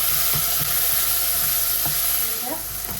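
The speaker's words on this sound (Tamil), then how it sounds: "கொஞ்சம் வெந்தயத்தை போட்டுவிடுவோம்" Fenugreek seeds fry in hot oil, a loud, continuous close-up sizzle with a few faint clicks of a utensil against the pan, and no speech.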